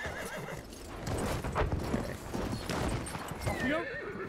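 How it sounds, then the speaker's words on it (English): A horse neighs loudly and gallops with rapid hoof clip-clops in the World War I shooter game Battlefield 1, its whinnies rising over dense battlefield noise and a player talking. "Oh, be careful of the fire horse."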